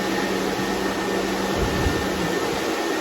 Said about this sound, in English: So I just turned on the cooling fan.